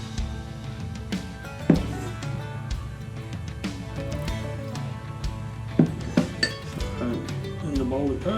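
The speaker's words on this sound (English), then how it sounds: "I'm just going to mix them all together" A spoon mixes gherkins, capers, mayonnaise and paprika in a bowl into a quick sauce for battered fish, with scattered clinks against the dish and a few sharper knocks.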